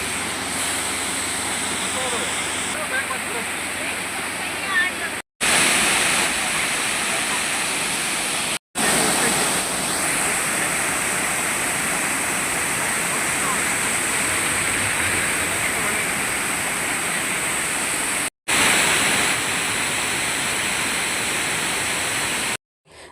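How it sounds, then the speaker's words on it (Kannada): Loud, steady roar of the main falls with fast-falling water, a dense continuous rush heard up close on a family trip, with a few brief cuts to silence. "ಸೊ ಇದೇ ಮೇಯ್ನ್ ಫಾಲ್ಸು."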